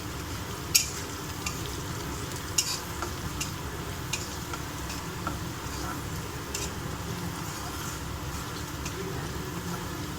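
Onions for sabudana khichdi frying in a pan until golden, a soft continuous sizzle with occasional light ticks and a couple of sharp utensil clicks, fairly quiet and close, no voices.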